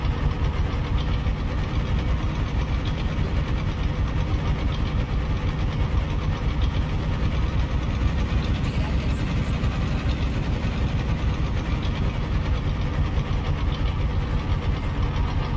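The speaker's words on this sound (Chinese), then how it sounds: "这位作者做的所有车头模组，声音都挺高的，引擎声音" A Fiat FNM210 truck idles in Euro Truck Simulator 2, a steady low mechanical drone with a faint knocking pulse that holds unchanged throughout, with no talking.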